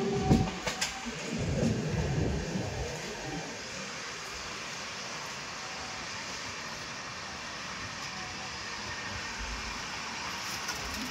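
A train rumbling across a bridge over the Godavari river, a steady low rolling roar with faint rhythmic clatter, heard at moderate distance from a moving train on the Bhubaneswar to Chennai route.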